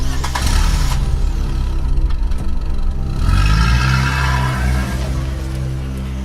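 A car engine starts and revs, then drives off with a rising, loud roar that stays close throughout.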